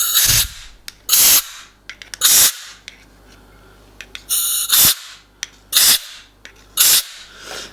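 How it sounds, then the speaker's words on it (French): An air blow gun fires into the cylinder head bolt holes and gauge wells of a DW12 engine: about seven sharp, close hissing blasts, each under a second, separated by short pauses and faint workshop clatter. "Passer un coup de soufflette dans les puits de jauge, passer un coup de soufflette dans les puits de filetage de vis de culasse là."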